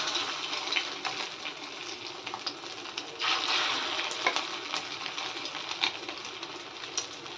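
Fish roe fritters fry in hot oil, making a soft continuous crackle with small spits and pops, fairly quiet and steady with no talking.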